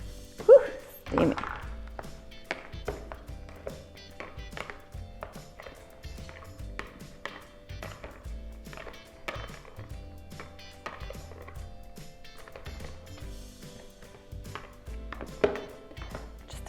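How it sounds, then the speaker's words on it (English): Cooked rice being fluffed in a pot: a series of soft, irregular thunks and taps of a utensil against the pot, fairly close, with a voice heard faintly at times. "Just a bit of rice fluffing"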